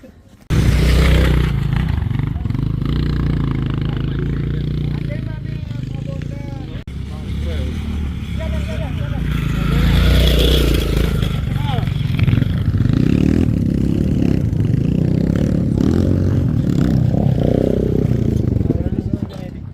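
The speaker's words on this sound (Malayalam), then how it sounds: "they are going on motorcycles also" Motorcycles ride along a mountain road near Mount Bature. A loud, low engine rumble runs almost the whole time, rising and falling, with people talking over it.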